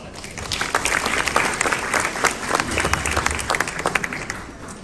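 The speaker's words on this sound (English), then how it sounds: "Let's give them a round of applause." Dense, sustained applause from a large audience at an India Canada Culture & Heritage Association gala in Winnipeg, steady crowd clapping filling the full span with no talk over it.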